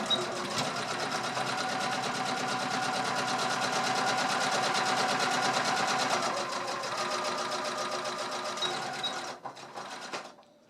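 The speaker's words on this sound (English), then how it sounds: "So the sewing begins." Sewing machine stitching fabric for a quilted bottle holder, a fast continuous mechanical whir and rapid needle patter running steadily and close for about nine seconds before slowing and stopping.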